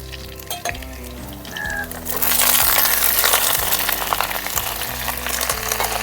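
Cut flat beans tipped into a pan of frying potatoes set off a loud, close sizzle that swells and holds, with metallic clinks and stirring scrapes over it.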